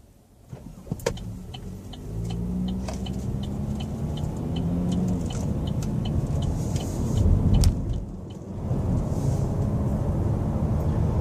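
A 2014 Chevy Malibu with an eco engine idling, a low, steady hum heard from inside the car, with a faint rhythmic ticking and a brief swell near the end.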